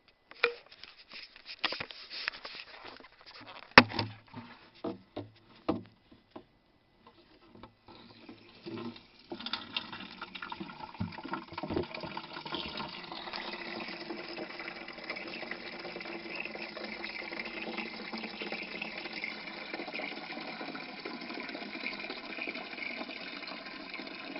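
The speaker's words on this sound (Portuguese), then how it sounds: "vamos ouvir o barulho da água" Water pours and patters steadily, starting with scattered splashes and drips before settling into a continuous, close filling stream.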